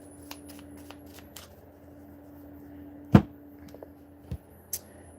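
Quiet riffling and soft card snaps, with one sharper slap and a couple of lighter taps in a hushed room.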